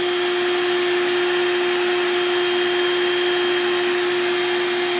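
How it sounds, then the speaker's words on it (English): A Bee Green bee removal vacuum runs during a live swarm removal, a loud, steady motor whine with a constant pitched hum that holds unbroken throughout. "With our technician Caesar on the Bee Green vacuum right here."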